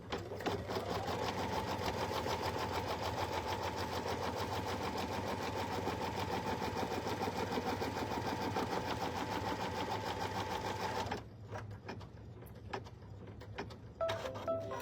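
An embroidery machine runs a fast, steady tack-down stitch over puff foam and vinyl on an in-the-hoop bag, a continuous close mechanical whir that stops abruptly near the end, followed by a few light clicks and handling noises.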